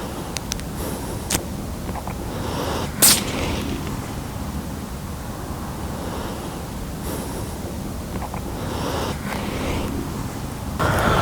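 A single sharp rifle shot fired at a fox during outdoor hunting cracks out loudly against steady wind and outdoor noise, with a few fainter knocks before and after.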